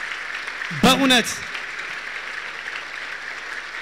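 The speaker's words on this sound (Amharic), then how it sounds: "በደንብ አጨብጭቡላት።" A crowd at a funeral send-off for a gospel singer's fiancée claps steadily throughout, a dense continuous patter broken briefly by a single voice speaking over it.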